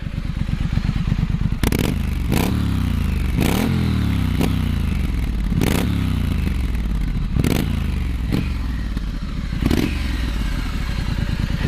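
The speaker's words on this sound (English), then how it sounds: "This Scrambler has such a great sound" A 2023 Triumph Scrambler 900 motorcycle runs close by with a steady, deep engine note, broken by several sharp, loud bursts like quick blips of the throttle.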